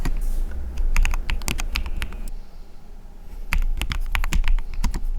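Rapid bursts of typing on a custom-built computer keyboard, clacky keystrokes in clusters with a short lull in the middle, close and fairly loud over a faint background hiss.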